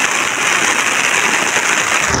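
Heavy rain pouring over paddy fields during rice planting, a dense, loud, continuous hiss of drops with no pauses and no voices.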